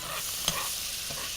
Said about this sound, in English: And then we continue with pan frying.